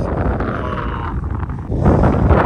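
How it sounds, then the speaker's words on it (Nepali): Gusty wind buffeting the microphone outdoors near village fields, a loud low rumbling roar that swells stronger toward the end. "मिठो हावा मौसम"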